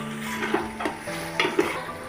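A spice tempering for baingan bharta crackles and sizzles in oil while a utensil stirs and taps against the pan a few times, close up.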